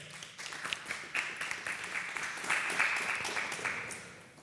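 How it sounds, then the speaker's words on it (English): A small audience claps at a religious teaching session, a modest scattered round of applause that swells in the middle and then tapers off. "well, yeah, clap for that"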